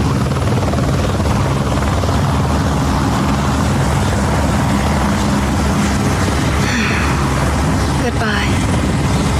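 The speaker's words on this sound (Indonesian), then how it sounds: "Come on, get in the helicopter quickly." A loud, steady helicopter rotor roar fills the whole clip, dense and close, with a brief spoken word over the noise and a short rising whine near the end.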